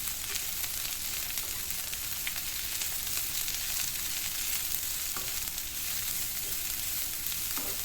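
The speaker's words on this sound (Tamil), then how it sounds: "இந்த வெங்காயத்தோட லேசாக வதக்கிக்கலாம்." Broad beans sautéing with onion in a hot pan for a Tamil broad bean and egg poriyal, a steady close sizzle and crackle with occasional stirring scrapes, no talking.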